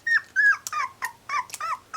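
A young Pembroke Welsh Corgi puppy gives a rapid run of high whimpers and small yappy barks, close and fairly loud, with no speech.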